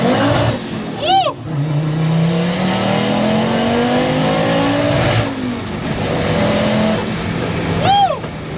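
A 400-horsepower VW Passat with a swapped turbocharged Porsche engine accelerates hard, its loud engine note climbing through gears with sharp shift breaks and a pass-by swell, close and dominant.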